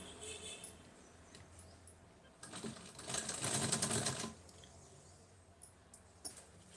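A sewing machine stitches a fall onto the edge of a saree, running in one burst of rapid, even stitching for about a second between quieter handling noises, fairly close and moderately loud.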